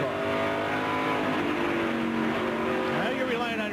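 NASCAR Winston Cup stock cars roar around New Hampshire International Speedway in a loud, continuous engine drone with shifting pitch, under commentators' talk.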